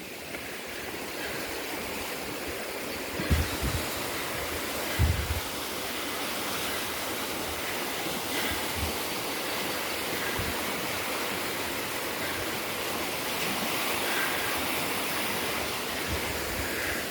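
A creek rushes steadily through a shaded gorge, a broad, even wash of flowing water close by with a couple of faint thumps, and no talk.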